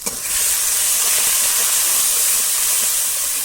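Masala spice paste of turmeric, salt and dried red chillies sizzling while being fried for papaya paneer, a steady loud hiss that holds evenly throughout.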